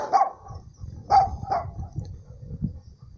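A poorly trained, loose Boxer dog barks three times close by, two sharp barks coming near together after the first, followed by low rumbling and a quieter yip.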